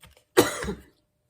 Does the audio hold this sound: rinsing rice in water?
no